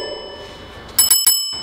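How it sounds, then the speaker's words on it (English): A small bell rings three times in quick succession, bright and clear, each ring following a dull background hum. "And don't forget to ring that little bell."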